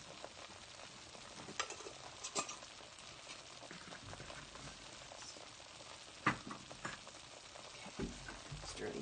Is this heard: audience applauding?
no